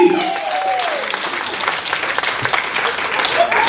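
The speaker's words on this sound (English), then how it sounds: "I'll give him a round of applause." A conference audience gives a round of applause, steady close clapping throughout with brief voices and a whistle-like tone near the start and end.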